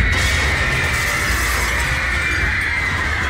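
Fourth- and second-floor footbridge walkways collapsing into a crowded hall, rendered as a dense, loud, sustained crash of shattering glass and breaking debris with no voices.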